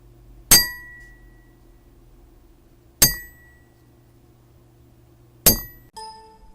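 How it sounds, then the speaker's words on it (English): A glass struck with a fork three times at even intervals, each a bright ringing clink that decays quickly, alone and close, followed by a softer tonal ring at the end. "let's have a look at this sound of the glass hit with a fork"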